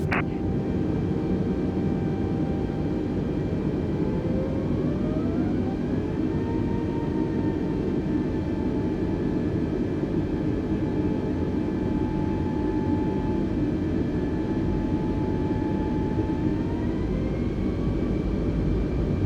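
Airliner jet engines in Microsoft Flight Simulator spool up as both thrust levers ease forward toward 50% N1, a steady loud roar with rising whining tones that climb in steps, continuous and without talk.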